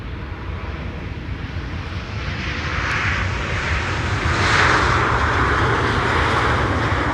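A KLM Boeing 777-300 arriving from Lima lands on the Polderbaan runway at Schiphol Airport, its jet engines giving a loud, continuous roar that swells as the aircraft passes close by, with no talking.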